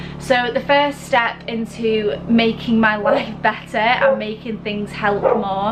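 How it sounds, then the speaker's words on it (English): Dogs bark and yip while playing outside, in repeated short bursts off in the background beneath a person talking close to the microphone. "sorry if you can hear my dogs barking, they're just playing outside"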